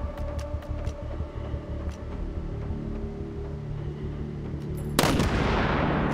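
Gunfire in a video game: a string of sharp, distant-sounding shots over a steady low rumble, followed by a sudden loud broadband burst near the end that lingers as a noisy wash.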